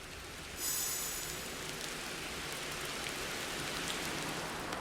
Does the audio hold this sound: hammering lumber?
no